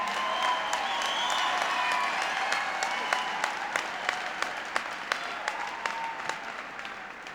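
Large 1994 political rally crowd in Oakland, California applauding and cheering President Clinton, a dense sustained wash of clapping and voices that thins slightly toward the end, with individual sharp claps standing out.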